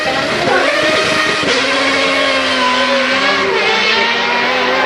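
A Formula 1 race car overtaking another: a loud, high-pitched engine whine with pitch sweeping upward and then holding as the cars pass close by.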